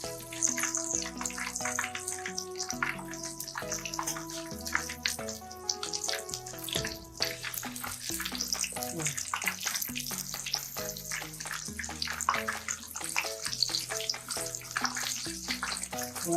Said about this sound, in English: Now we'll start frying the chicken.